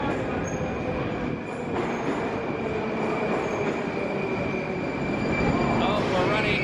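Moscow metro train running underground, a loud continuous rumble with squealing wheels and rattling carriages, with faint voices beneath the noise.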